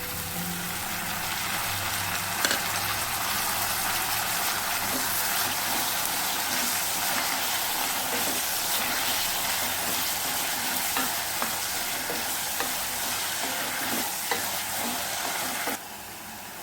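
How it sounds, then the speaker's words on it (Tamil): Tomatoes and shallots sauté in a pan, giving a steady, close sizzle with frequent stirring scrapes throughout; the sound cuts down slightly near the end. "தக்காளி வெங்காயமும் நல்லா வதங்கிடட்டும்."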